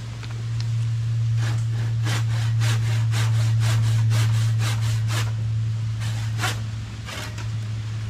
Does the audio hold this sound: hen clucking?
no